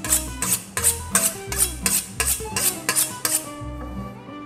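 A sharp knife saws through pork belly in about ten regular rasping strokes, close and rhythmic, over a faint tonal background that fades near the end.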